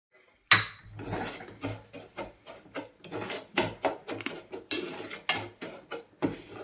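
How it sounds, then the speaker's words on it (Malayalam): A utensil stirring sugar as it caramelizes in a pan, giving a busy series of close clinks and scrapes against the metal in uneven rhythm, with no talk. "എന്നിട്ട് നമ്മൾ അപ്പോൾ അതവിടെ കിടന്ന് കാരമലാവട്ടെ. ചെറുതായിട്ടൊന്ന് ഇളക്കി കൊടുക്കേണ്ടി വരും എപ്പോഴും."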